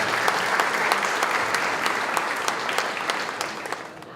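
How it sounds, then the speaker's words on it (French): Steady audience applause at a charity gala in a hall, a dense and fairly loud wash of clapping that tapers slightly toward the end, with no voices over it. "Applaudissez-le très fortement."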